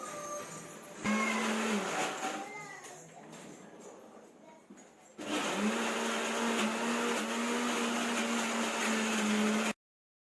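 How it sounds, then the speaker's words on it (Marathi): A mixer grinder grinding spices whirs loudly in two long bursts with a short pause between, a steady motor hum running through each spin. "आता मी ना मिक्सरला बारीक करून घेते"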